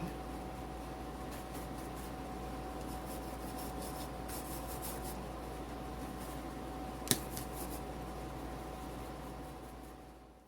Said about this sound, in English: I'm just going to brush it on a little bit.